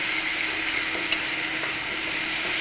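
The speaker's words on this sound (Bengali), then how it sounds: "মশলাটা ভাজা হয়ে যেয়ে এই যে গা দিয়ে তেল ছাড়তে শুরু করে দিয়েছে" Ginger, garlic and tomato spice paste frying in oil in a pan, giving a steady, soft, continuous sizzle with faint stirring clicks and no talk.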